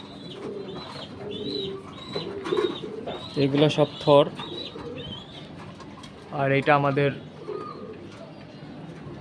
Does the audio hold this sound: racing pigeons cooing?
yes